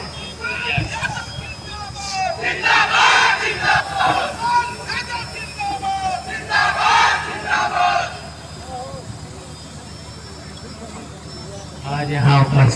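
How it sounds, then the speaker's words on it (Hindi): A crowd at a dangal wrestling event in Ahiraula, Azamgarh, Uttar Pradesh roars and shouts in dense waves under an amplified voice, swelling loudly, dipping midway, then rising again at the end. "एक बार ताली बजनी चाहिए।"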